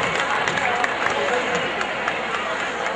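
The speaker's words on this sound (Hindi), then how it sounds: "प्लीज जोरदार तालियां।" An audience at an Indian festival event applauds, a dense continuous wash of clapping mixed with crowd chatter filling the whole moment.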